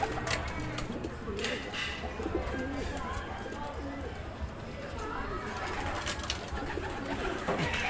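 Racing pigeons coo softly in a loft during training check-in, a low murmuring flock sound running steadily throughout, with a person speaking over it.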